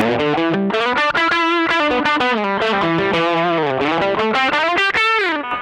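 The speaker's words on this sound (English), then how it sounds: "We come on then to the tube screamer. Sounds like a tube screamer." An electric guitar runs through a Boss OD200 in tube screamer overdrive mode, playing a sustained, loud, mid-heavy melodic line with smooth bending notes and gritty harmonics, no talking.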